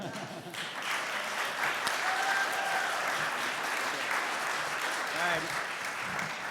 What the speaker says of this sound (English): Another round of applause for Mike Jorberg.